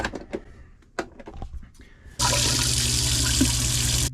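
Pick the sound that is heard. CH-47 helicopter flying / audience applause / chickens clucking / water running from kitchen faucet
water running from kitchen faucet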